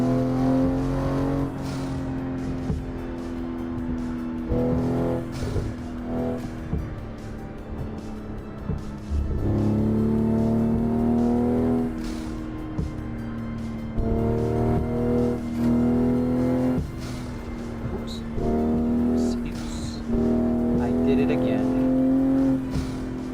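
A race car engine in the Assetto Corsa game, played on a home driving simulator, revs up and shifts again and again, loud and steady throughout, while a voice talks over it.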